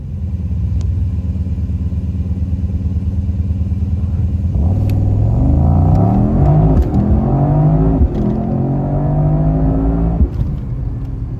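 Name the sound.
Mercedes-AMG GT63 accelerating in race start launch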